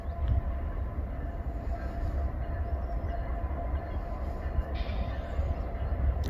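Two trains racing side by side rumble steadily past at close range, a continuous heavy roar of wheels and cars on the rails with no break.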